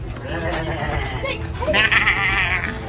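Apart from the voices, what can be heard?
billy goat bleating at the Tulsa Zoo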